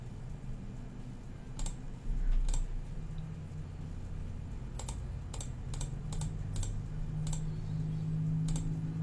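Computer mouse clicks while a Baofeng UV-5RE radio is programmed with Chirp on a Raspberry Pi: about ten sharp, close clicks, single and in quick runs, over a faint room hum.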